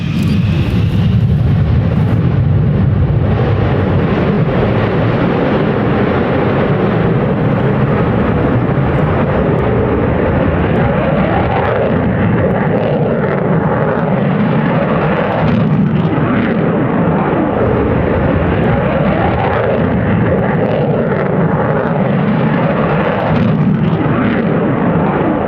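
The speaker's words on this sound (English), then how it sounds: "This F-111 shooting huge flames, known as a dump and burn maneuver." An F-111 jet performs a dump and burn flyby at an air show rehearsal, a loud, continuous roaring rumble that stays heavy and unbroken throughout, with no voices.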